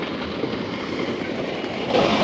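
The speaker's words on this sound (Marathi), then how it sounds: "हे बघा ट्रेन येते." A train rumbles past close by near Bhandup station, a steady broadband roar of rail cars that swells slightly louder toward the end, with no voices.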